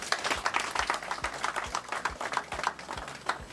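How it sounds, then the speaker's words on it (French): Audience applause at a coronation gala, a lively spread of claps with irregular sharp hits, moderately loud and continuous across a few seconds with no one speaking. "Ça mérite d'être applaudi."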